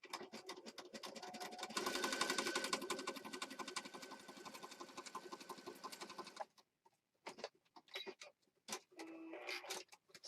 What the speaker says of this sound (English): Regular needle, regular thread, doing a zigzag stitch